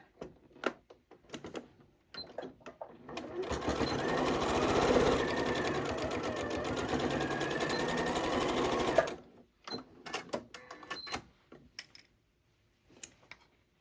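A Janome 8200 QCP sewing machine stitches a dart in a bowl cozy, a fast continuous whirring run of about five seconds framed by scattered clicks and handling taps before and after.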